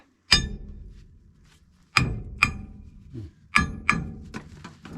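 A hammer striking metal on a storage depot job: sharp ringing taps, one alone then pairs and a quick flurry, each decaying with a metallic clang, no talking.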